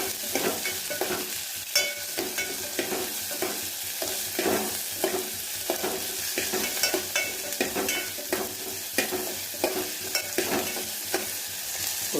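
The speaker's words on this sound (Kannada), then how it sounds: "ಕಟ್ ಮಾಡೋ ಈರುಳ್ಳಿ ಇರುತ್ತಲ್ಲ ಅದನ್ನು ಹಾಕಿ ಈರುಳ್ಳಿ ಹಾಕಿದ ಮೇಲೆ ಸ್ವಲ್ಪ ಬೇಯಿಸಿ" Chopped onions frying in a pan for upma, a steady sizzle broken by regular rhythmic scrapes of a spatula stirring, close and moderately loud throughout.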